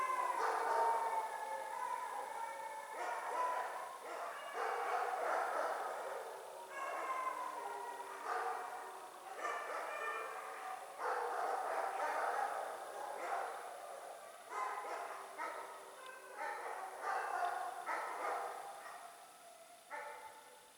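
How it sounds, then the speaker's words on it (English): Several dogs howl together in long, wavering pulses, rising and falling repeatedly, moderately close against a quiet background, answering coyotes howling in the distance. "My dogs sing to me when the coyotes sing."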